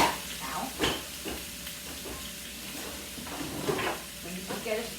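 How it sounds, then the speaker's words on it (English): Shrimp sizzle and crackle in a hot pan with a steady hiss, punctuated by stirring scrapes and a few brief sounds of someone nearby. "Let's listen for the sizzle"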